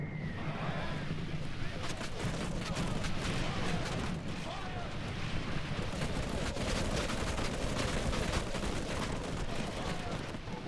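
Troops firing volleys in a Lord of the Rings strategy game, heard as a continuous dense crackle of many overlapping shots that runs the whole time beneath a steady battle roar, with some talk mixed in.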